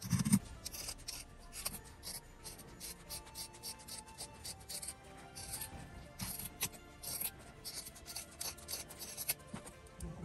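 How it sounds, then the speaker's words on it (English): Scissors trimming around the thick edge of a small fabric piece for a sewn card wallet, a rapid series of close, crisp snips and rubbing cuts running steadily and alone. "I'm going to trim around because it's a little thick on the side."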